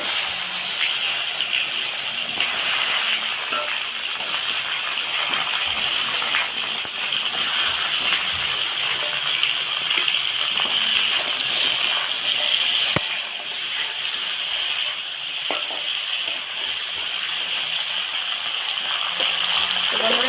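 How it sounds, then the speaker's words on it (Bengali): Pointed gourd (potol) pieces, coated in salt and turmeric, frying in hot oil: a steady, loud broadband sizzle and hiss that continues without a break, with small crackles throughout. "গরম হয়ে গেছে তেলের মধ্যে পটলগুলো দিয়ে দেবো"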